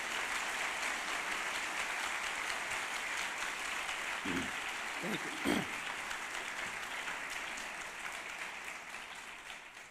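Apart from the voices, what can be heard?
audience applause for students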